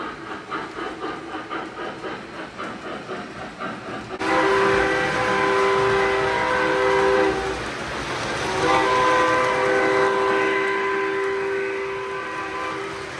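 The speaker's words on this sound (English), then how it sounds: "running my rigid frame steam locomotives such as my Lionel Pennsylvania J1" A model steam locomotive, a Lionel Pennsylvania J1, runs on a layout: steady rhythmic chuffing, then loud sustained whistle tones over a continuous rolling rumble.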